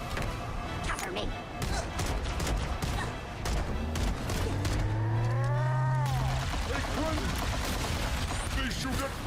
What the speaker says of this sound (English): They shoot at me.